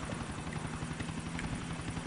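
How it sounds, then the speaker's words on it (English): Helicopter in Grand Theft Auto 4: a steady, close rotor chop with dense engine noise, continuous and even throughout, no talk. "He is going for a chopper."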